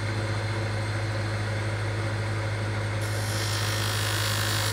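A wood lathe spins a wine bottle blank while peeling cuts taper it down, a steady close motor hum with continuous scraping of the tool against the spinning workpiece, growing brighter and hissier partway through.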